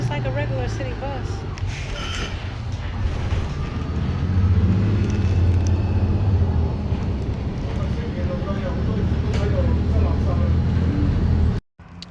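A Los Angeles public city bus rumbles along with a low engine drone and road noise inside the cabin, steady and fairly loud, while a person talks over it almost continuously.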